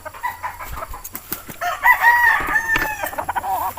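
A gamefowl rooster crows once, loud and close, with clucking and scattered bird calls before and after, no talk over it.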